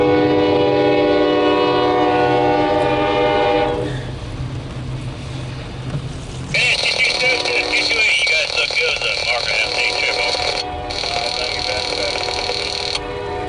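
A Norfolk Southern 227 intermodal freight train rolls past with loud rumbling wheels and rail noise, then sounds a long, loud two-part horn blast up close, the horn cutting off briefly before resuming.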